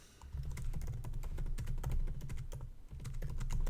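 Rapid typing on a computer keyboard while entering a screenplay, dense irregular key clicks close up and moderately loud, with no speech.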